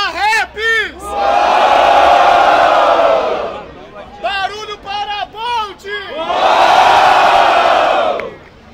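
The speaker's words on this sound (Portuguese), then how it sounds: "Então, por ordem de rima, barulho para Raps! Barulho para Bolt!" A crowd at a Brazilian rap battle roars, cheering and shouting in two long loud surges, with a host's short shouted calls breaking in between them.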